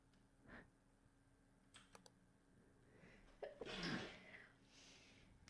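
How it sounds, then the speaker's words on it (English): A single faint sneeze with a sharp, breathy burst stands out against a quiet room, preceded by a few soft clicks. "Let's sneeze again."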